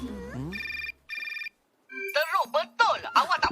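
A cartoon telephone rings twice in short electronic bursts in the Malay-dubbed Miraculous animated series, followed by characters' voices talking.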